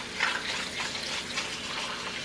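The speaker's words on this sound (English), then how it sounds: "the tub is filling up with water" Water pours steadily into the tub of a LEGO washing machine, a soft continuous splashing and trickling that stays fairly quiet and close, with no talking.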